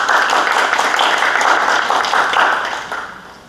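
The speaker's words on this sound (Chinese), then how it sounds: "我们是不是各位用热烈的掌声欢迎王教授？" An audience at a lecture applauds to welcome a professor, a dense, steady clapping that holds for a few seconds and then tapers off.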